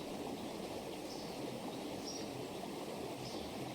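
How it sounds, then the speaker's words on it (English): Continuous rushing of water in a stream beside a rock on a country walk, a steady broad wash at low level with no voices. "the water rushing through the feet and the sound of that water"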